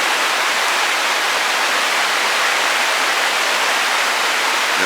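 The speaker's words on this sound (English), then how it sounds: "Beautiful sound of the river." A steady, full rush of flowing creek water, loud and close, with no other sounds.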